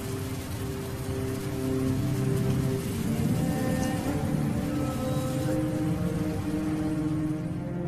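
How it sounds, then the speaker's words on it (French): Heavy rain pours in a continuous deluge at the start of the rainy season, a dense, steady wash of drops holding at an even loudness for the whole stretch, with no voices. "C'est le début de la saison des pluies. Elle tombe maintenant en un continuel déluge"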